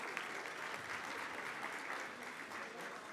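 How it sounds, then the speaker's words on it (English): An audience at an event gives a sustained, even round of applause, fairly faint and distant, a continuous wash of many hands clapping. "how about a nice round of applause for Azana and Angelo?"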